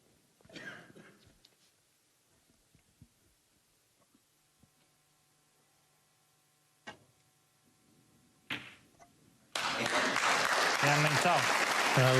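Snooker crowd at the Northern Ireland Open final applauding a safety shot, a steady burst of clapping that starts suddenly after a quiet room with a few faint knocks and murmurs.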